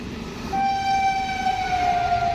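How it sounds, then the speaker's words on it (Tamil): Passenger train 04251 of the Northern Railway approaching Raghuraj Singh station at night: a steady, loud horn blast begins after a moment and holds over a low rumble of the moving train. "அந்த ட்ரெயின் ரகுராஜ் சிங் ஸ்டேஷனை கிட்டத்தட்ட நெருங்கிட்டு இருக்கு."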